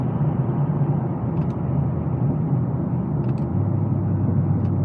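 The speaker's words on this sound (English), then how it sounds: "we're going to start downshifting just to assist with the braking" Mercedes CLA45s AMG downshifting on paddle shifters while braking toward a roundabout, a steady low engine rumble from inside the cabin with faint brief blips of the gear changes.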